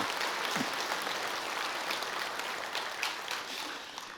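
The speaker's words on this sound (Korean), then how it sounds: "우리 감사하며 영광의 박수 한번 올려드리겠습니다." A congregation at a Sunday morning church service breaks into a steady, dense wash of applause that holds evenly throughout.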